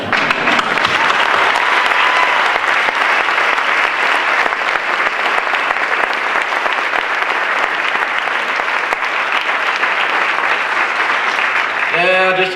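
A keynote-event audience in Atlanta applauds loudly and steadily, a dense wash of clapping from a large crowd that holds throughout and begins to fade at the very end.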